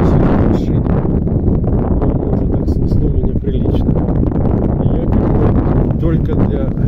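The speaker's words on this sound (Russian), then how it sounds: "Ветер чуть стих, уже не так штормит." Strong wind gusting over an open estuary during a fishing trip from a small boat, a loud continuous roar and buffeting of air with rustle and splashing texture, steady throughout with no pauses.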